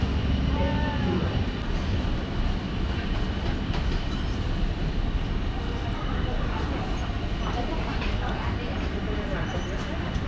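Economy-class Mataram passenger train heard from on board at night, a loud steady rumble of wheels and carriage with faint rail clatter, continuous throughout with no clear breaks.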